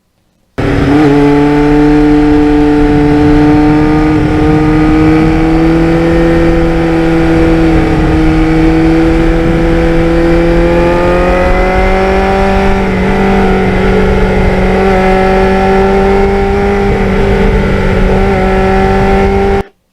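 A restored 1989 Kawasaki Ninja 750R motorcycle rides on back roads, its engine droning steadily up close for the whole stretch, pitch climbing gradually as it pulls through the gears.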